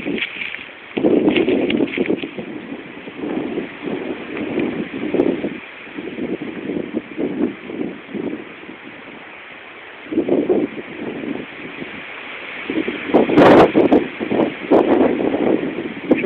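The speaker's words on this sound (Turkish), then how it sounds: "Rüzgar esiyor." Gusty mountain wind in Bingöl, Turkey buffets the microphone in uneven surges and lulls, with a rustle of leaves and a sharp knock near the end.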